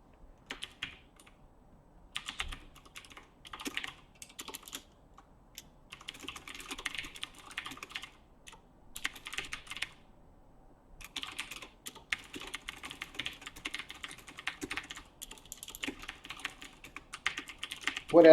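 Fast typing on a computer keyboard, close and crisp, with bursts of clattering keystrokes separated by short pauses.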